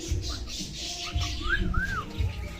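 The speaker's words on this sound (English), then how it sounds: "Look, there's a parrot." Birds calling in a zoo aviary, a parrot among them: a few faint chirps and two rising whistled calls over steady background hum and low crowd noise.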